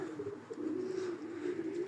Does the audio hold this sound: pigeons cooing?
yes